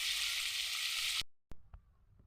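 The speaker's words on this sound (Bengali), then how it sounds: "আলুটা ভেজে নিচ্ছি।" Potatoes fry in a pan for a village-style dish seasoned with salt, turmeric and red chilli powder, giving a loud, steady sizzle that cuts off abruptly into quiet, followed by a few scattered knocks and clicks.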